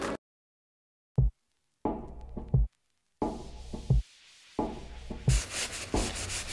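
Scrubbing and rubbing on an 80CRV2 carbon steel knife blade comes in short, separated strokes, with pauses of silence between bursts and a longer stretch of scraping near the end.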